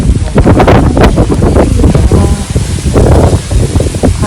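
Steady wind buffets the microphone with a loud, continuous low rumble and gusty roar throughout, with no clear voices.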